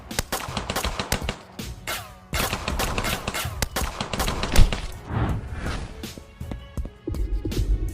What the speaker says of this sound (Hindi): आरव के आदमी मेहुल के ऊपर फायरिंग कर देते हैं